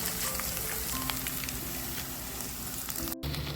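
Onions with turmeric and chilli powder fry in hot oil for biryani, giving a steady, close crackling sizzle with faint stirring, broken by a brief dropout near the end.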